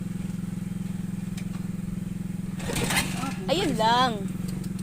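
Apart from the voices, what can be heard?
motorcycle engine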